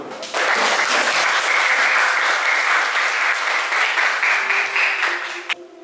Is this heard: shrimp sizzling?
no